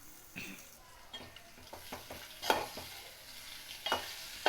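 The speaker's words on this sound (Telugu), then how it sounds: "ఈ వైట్ ఎగ్స్ని వేసుకొని మొత్తం మిక్స్ చేసుకోవాలి" Boiled egg whites are stirred into masala frying in oil over a low flame, with intermittent scraping strokes of a spoon against the pan over a soft, faint sizzle.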